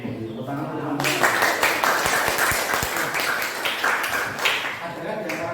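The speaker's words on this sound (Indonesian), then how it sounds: "Tepuk tangan teman-teman." Classroom audience applause during a teaching session, steady clapping from a group of students that starts after a second and continues throughout, with a voice speaking over it.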